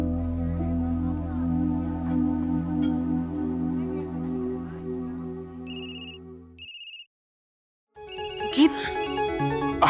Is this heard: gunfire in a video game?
no